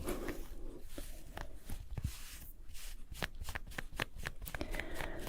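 Fingertips scratch and rub over ripped fabric on a tank top in a close, intimate setting. Dense crackling textures come in quick, irregular strokes, with sharper scratchy bursts repeating throughout.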